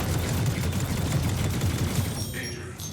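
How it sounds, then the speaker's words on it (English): Sustained rapid weapon fire in a space combat game, Star Citizen-style bounty hunting in a Vanguard Warden ship, a dense continuous burst of shots held on the trigger that thins out near the end. "Try not to pull on the trigger and hold it."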